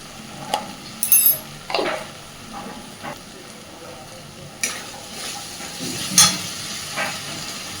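Spice paste with cumin powder frying in a pan for a banana-flower kofta curry, with soft sizzling under repeated scraping stirs and occasional clinks of the spoon, fairly close and moderate in volume.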